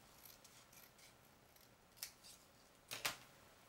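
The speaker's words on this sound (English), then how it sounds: "so I'm going to cut this part off here" Scissors snipping through paper while making a sympathy card, a few soft cuts followed by two sharper, louder snips close by, with quiet gaps between them.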